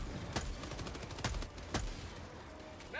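Scattered shots ring out in Helldivers 2, a few sharp separate bursts over a low rumbling battle background, at moderate distance and without talk.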